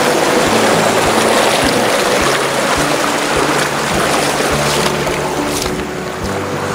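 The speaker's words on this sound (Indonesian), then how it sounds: "Sekarang sedang menyeberangi sungai." River water rushes and splashes steadily while people wade across a river, a broad continuous wash filling the whole stretch with no pause.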